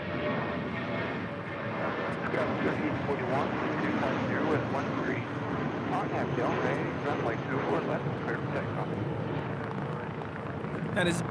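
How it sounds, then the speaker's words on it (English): A ten-year-old JetBlue Airways A320 departs, its jet engines a steady, loud broadband roar that holds for the whole stretch with little change, while a voice talks over it. "That is Blue Yorker departing to Seattle, JetBlue Airways 806 on a 10-year-old A320."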